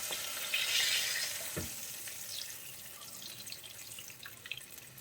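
Karimeen (pearl spot fish) frying in oil for Kerala-style pollichathu makes a faint, steady sizzle with a few soft crackles and spits, and no talk.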